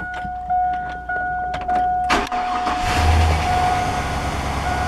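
A high-mileage truck with about 63,000 miles has a steady warning chime before the starter cranks; the engine catches and settles into a loud, continuous rumbling idle.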